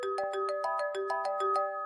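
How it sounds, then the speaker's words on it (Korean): A woman's mobile phone rings inside her bag in a taxi, a steady electronic ringtone melody of repeating tonal notes with a regular pulsing rhythm, fairly close and clear with no talk over it. "그때 여자분 가방에서 전화벨 소리가 들리더군요."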